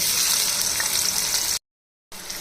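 Loud, steady sizzle of chopped onions frying in oil, cutting to silence briefly before the crackling resumes.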